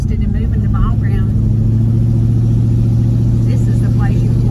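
A 1973 Monte Carlo cruising with dual exhaust cherry bomb mufflers makes a steady, loud low rumble that holds throughout, with voices talking over it.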